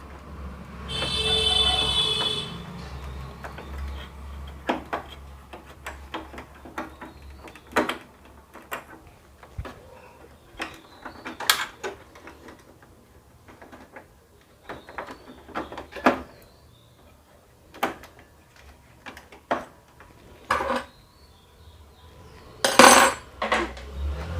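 Canon printer paper feed parts being refitted by hand, giving scattered light plastic clicks and taps with a brief louder rattle near the start and another near the end, close and without talk.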